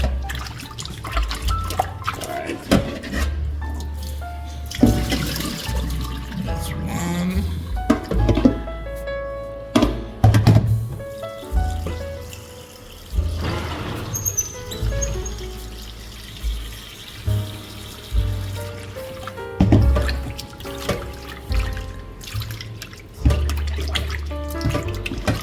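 Tap water runs and splashes while rice is rinsed in a pot, loud close gushing and sloshing with swirling surges and drains across the stretch, repeated over several rinses.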